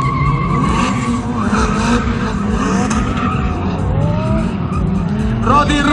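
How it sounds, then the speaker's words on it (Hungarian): A Nissan Silvia S15 drift car at a Hungarian drift event, its engine revving and wailing through rising and falling gear pulls while tires squeal and skid continuously, loud and close, with an announcer's excited voice over it. "Magyarország egyetlen Nissan Silvia S15-jével, Golán Erik!"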